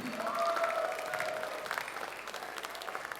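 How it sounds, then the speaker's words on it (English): Audience at a school arts and language festival clapping steadily throughout, a dense wash of applause heard from within the crowd, with faint tonal sounds in the background. "Everyone, round of applause for Alphonse Obey."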